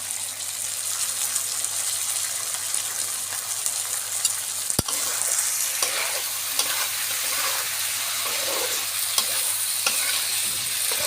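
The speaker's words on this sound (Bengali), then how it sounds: "একটু সুন্দর করে নাড়াচাড়া করব।" River fish curry with mustard is stirred in a hot frying pan, a continuous close sizzle with soft scraping movements, broken once by a sharp click midway.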